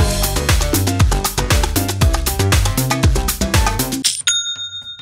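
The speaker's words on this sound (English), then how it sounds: "That's the sound of another sale on Shopify" Shopify sale notification chime, a bright bell-like ding with sustained ringing tones, sounding clearly alone right after loud full-band music ends abruptly.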